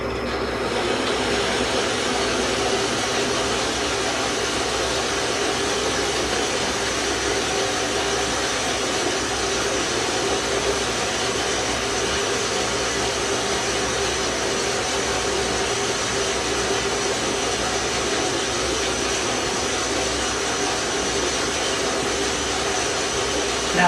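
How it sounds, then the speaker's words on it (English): A power saw dry-cutting aluminum stock in a lab produces a loud, steady, broadband whir that runs unbroken for the whole stretch, with no pauses or changes in pitch. "you can see the way the saw cuts through it"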